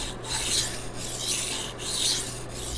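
Knife blade sharpened on a water stone, with repeated full-length rasping strokes in an even back-and-forth rhythm, close and fairly quiet, with no talk.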